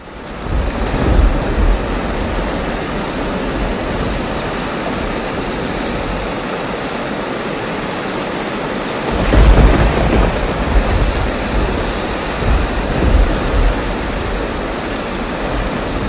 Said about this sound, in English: It is pouring here at the moment.